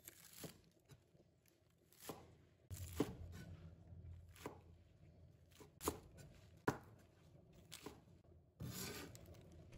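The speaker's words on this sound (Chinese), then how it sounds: "然后放在案板上，把它切成小段，把菜梗和菜叶分开切" Spinach stems and leaves being cut into short lengths on a chopping board, with sparse, irregular knife chops and some soft rustling between them, fairly quiet and close.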